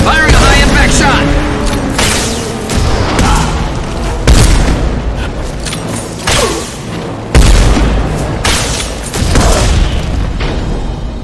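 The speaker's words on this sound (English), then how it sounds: "Firing a high-impact shot!" A high-impact shot fires in a Mass Effect-style sci-fi shooter, loud booming blasts in a dense mix of repeated impacts and mechanical clatter, with a voice speaking over the combat.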